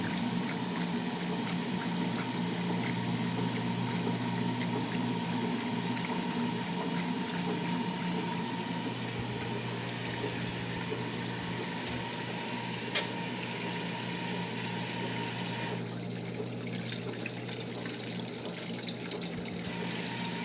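A Frigidaire Rollermatic washing machine fills with warm rinse water, a steady rushing flow with a mechanical hum that runs the whole time, with no voices.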